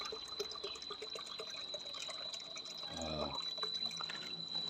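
Water poured from a container into a dog's empty water dish, a brief splashing pour standing out near mid-clip amid steady outdoor background noise with faint dripping.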